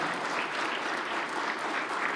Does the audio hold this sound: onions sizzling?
no